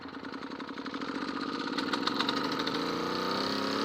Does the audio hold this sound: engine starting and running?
yes